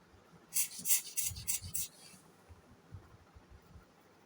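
A cloth rubs briskly across a camera's hard surface in a quick run of short swipes to clear dust, then a few quieter, slower strokes follow.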